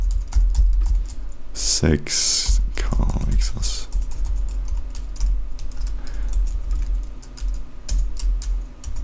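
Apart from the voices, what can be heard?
typing code on a computer keyboard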